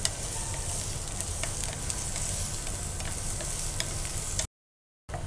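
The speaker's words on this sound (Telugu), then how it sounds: "అలాగే ఆనియన్స్ కూడా నైస్ చాప్ చేసుకొని ఆయిల్లో వేడికిన తర్వాత యాడ్ చేసేసాము." Chopped onions, garlic and green chillies sizzle and crackle steadily in hot oil, a dense, even frying hiss close up with faint ticks, running unbroken before cutting out near the end.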